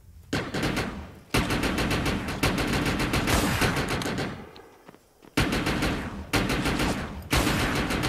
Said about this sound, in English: That's a good sniper weapon.